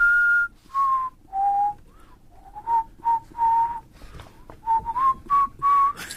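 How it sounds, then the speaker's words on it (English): A man whistles a pop song melody in clear, sustained notes with short gaps between phrases, close and solo against a quiet background. "I challenge you to whistle anything that he's ever done."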